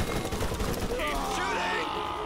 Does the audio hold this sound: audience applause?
no